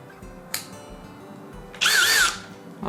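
A power driver briefly whirs as it unscrews screws from the heater of a QiDi Plus 4 3D printer, one loud burst of under a second following a single sharp click.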